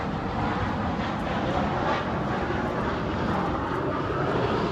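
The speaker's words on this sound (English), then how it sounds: "Let that airplane pass." A fixed-wing airplane passes overhead near a New Holland LB75B backhoe loader, its engine drone a steady, loud roar that fills the whole stretch.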